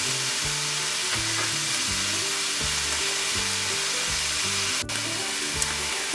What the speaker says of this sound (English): And then we're gonna get our peppers sauteed